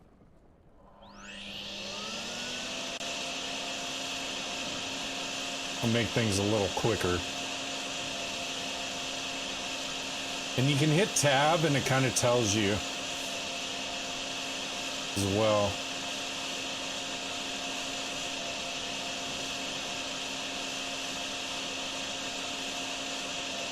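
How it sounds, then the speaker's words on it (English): A vacuum tool in the plumbing game Plumbing Vigilante / Drain Sim starts up and holds a steady, loud whirring drone for the whole stretch, with someone talking over it in three short bursts. "I can get my vacuum out though,"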